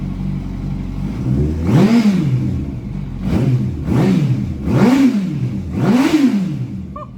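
A rebuilt, crash-damaged 2005 Yamaha R1 sport motorcycle idles with a rough rumble, exhaust smoking, and is revved four times in a row, each rev rising and falling, close and loud.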